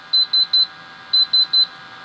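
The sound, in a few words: gas detection instrument sensors in alarm beeping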